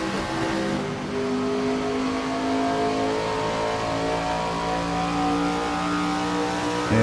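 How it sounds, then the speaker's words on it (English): Race car engines in the iRacing sim, sounding like old-school NASCAR stock cars, drone loudly and continuously with rising and falling revs throughout, no voices over them. "these things do sound like some old school NASCAR cars,"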